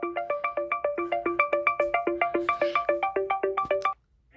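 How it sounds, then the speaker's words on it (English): A phone ringtone plays a fast, evenly repeating pattern of bright electronic beeps, loud and alone, then cuts off abruptly near the end. "ringtone intensifies."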